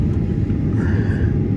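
Cabin rumble of an airliner landing at Sydney airport over Kurnell, heard from the last rear seat: a steady, loud low-frequency roar of engines and airflow continuing without break.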